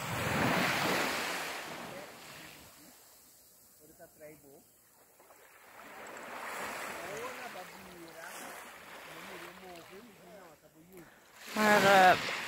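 Sea waves wash onto a beach under gusting wind, the surf swelling loud at the start, easing off, then building again, with a few faint bird calls in between.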